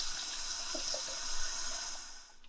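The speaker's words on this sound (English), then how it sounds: "You'll fill it up with water from the tap till about a 1/2 inch underneath the lid." Tap water runs steadily into a sample bottle for water testing, a continuous close splashing flow that thins out near the end.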